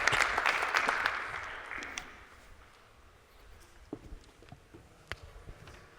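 An audience at the JNUC 2025 tech conference applauds a speaker being welcomed to the stage, a soft burst of clapping that fades over a couple of seconds and leaves a few scattered claps.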